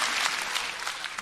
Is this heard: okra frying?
no